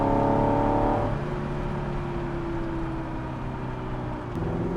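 Ferrari Dino 246GTS fitted with a 328 V8 engine runs with a smooth, close engine drone that drops in pitch after a second, then holds a steady hum with slight rises in tone.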